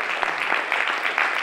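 Applause at a teaching innovation conference, a steady patter of clapping from a modest crowd with a few sharper hits, heard on its own without speech.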